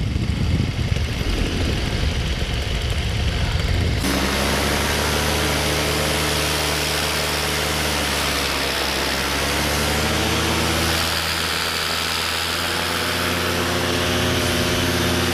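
A paramotor engine runs steadily and loudly up close with a rough, uneven misfire, after a burst of wind buffeting at the start.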